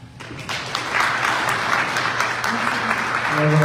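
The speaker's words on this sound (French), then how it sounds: "Applaudissez un discours émouvant." A crowd at a political coalition opening rally applauds after a moving speech, clapping swelling up and holding steady and loud, with a voice beginning to speak over it near the end.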